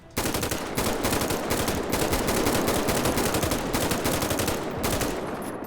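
Rapid full-auto gunfire from a video game weapon rattles in a dense, continuous burst of evenly spaced shots, loud and close, lasting several seconds before stopping, with no talk.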